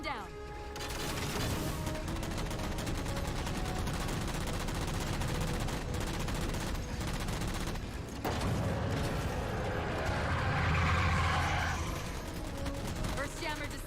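Sustained rapid gunfire and heavy mechanical clatter from a Mantis mech shooting down jammers in Halo, a dense, loud barrage with a brief lull and a later explosion, and someone talking over it.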